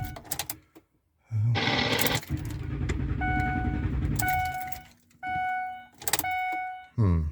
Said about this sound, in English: We're going to try giving it a start and see what happens.